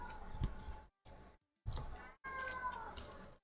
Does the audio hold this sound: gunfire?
no